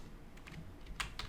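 Quiet typing on a computer keyboard while entering an equation in Microsoft Word, a few soft scattered key clicks followed by a quick burst of louder taps near the end.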